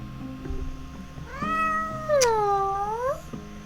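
A cat meows in the video game Tunnel Vision, one long drawn-out mew that bends upward and falls away over about two seconds, standing clearly above a low steady background hum.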